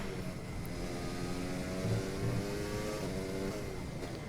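A Formula 1 race car engine in F1 2020 drones loud and close, revs stepping down steadily as it slows into a hairpin, with a brief wobble as the tires lock.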